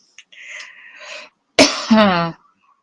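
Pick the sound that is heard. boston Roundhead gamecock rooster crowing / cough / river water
cough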